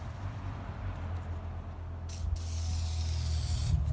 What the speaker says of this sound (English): So let's spray it down a little bit again.